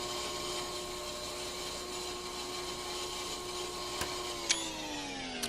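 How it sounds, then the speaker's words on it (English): A brake lathe machining a brake disc in Car Mechanic Simulator 2021, a steady whirring mechanical drone with a high tonal whine that slowly falls in pitch, plus a couple of brief sharp clicks near the end. "I love the brake lathe."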